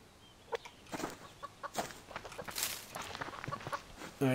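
Chickens cluck in the Subsistence video game, a string of short, fairly quiet clucks and calls spread across the clip with a few soft thumps, no one talking over them.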